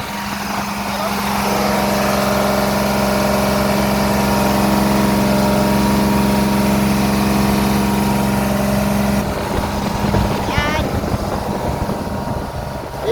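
A fishing boat engine, freshly serviced with new oil, runs loud and steady for about nine seconds before easing off, leaving a rougher, quieter tail with a short chirp near the end.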